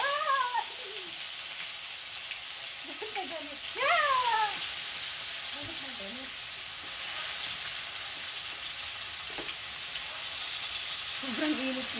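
Tomatoes dropped into hot cooking oil give a bright, continuous sizzle and hiss that runs throughout, close up, while a person's voice rises and falls over it in drawn-out tones.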